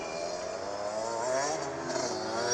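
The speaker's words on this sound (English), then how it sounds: "And there's a guy on just a legit motorcycle." A motorcycle rides past on a street in Houten, its engine droning steadily with a slowly rising pitch, close and continuous, with no talking.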